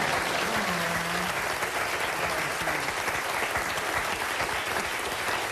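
Dense, steady applause from a talk-show studio audience, loud and continuous throughout with a brief voice faintly audible early on.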